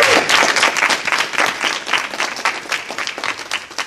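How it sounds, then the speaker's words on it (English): Steady applause from a crowd, dense clapping that continues throughout at an even, moderate level. "I think that needs to be applauded"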